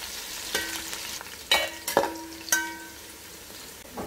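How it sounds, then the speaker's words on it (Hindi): Onions fry in hot oil for a chicken dum biryani, a low sizzle under several sharp clinks and scrapes of a utensil stirring the pan, each strike ringing briefly. "और गाइस जैसे कि हमारे ये प्याज है फ्राई हो रहे हैं"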